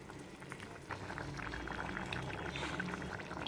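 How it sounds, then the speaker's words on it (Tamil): A pot of potato masala thickened with a roasted gram dal mix boils steadily, with dense close bubbling and popping at a moderate level and no talking. "பாருங்கள் நல்லா கொதிச்சிச்சு"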